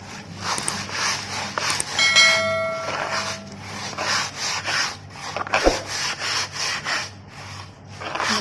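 Dried basil plants rubbed and crushed by hand outdoors to free the sabja seeds: a close, repeated rustling and grinding of brittle stems and leaves in uneven strokes, with no talk.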